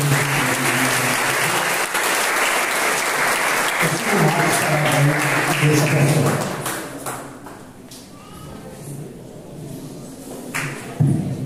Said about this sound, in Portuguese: Tem uma salva de palmas, bem alegre